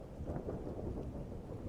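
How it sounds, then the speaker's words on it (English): Thunder rumbles low beneath a steady wash of heavy rainfall, a quiet, continuous storm sound with no voices. "Another thunder crash and heavier rainfall gave him his answer."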